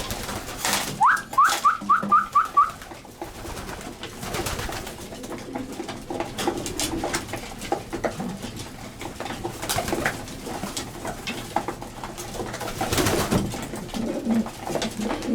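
Racing pigeons at their home loft give a short run of rising coos and calls early on, then softer cooing and fluttering continue beneath steady loft noise with no one talking.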